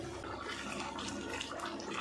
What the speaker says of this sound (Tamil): இப்போ இது குருமா கொஞ்சம் நேரம் கொதிக்கட்டும்.